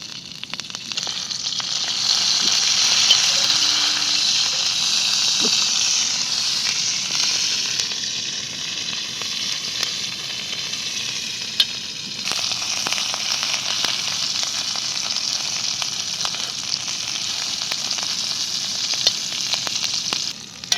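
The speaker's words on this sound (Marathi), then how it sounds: "आता त्या मिरच्या तळून घेते जरा तव्यात" Green chillies frying on an iron bread griddle over a wood-fired stove give a steady, close hiss and sizzle that carries through with occasional small pops and scrapes, with no talking.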